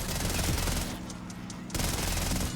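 Sustained rapid PPSh submachine gun fire in Black Ops 6 Zombies, a dense loud burst that briefly drops to quieter crackles mid-clip before the automatic fire resumes at full intensity.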